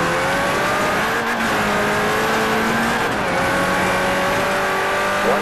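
A rally car in the Forza Horizon racing game drives on tarmac with a loud, steady engine drone and shifting revs throughout, close and uninterrupted.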